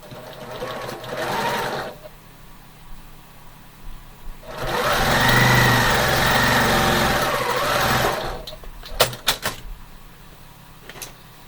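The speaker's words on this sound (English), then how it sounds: "I'm going to sew this side together and do the same thing." A sewing machine stitches quilt block pieces in two runs, a short burst and then a longer steady whir, followed by a few sharp clicks and handling noises.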